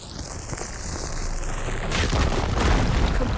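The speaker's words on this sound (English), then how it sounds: "Could be able to blow up that guy again." Loud in-game explosion in Horizon Forbidden West as an enemy is blown up, a broad booming blast that swells midway and rumbles on to the end, preceded by a rising whine.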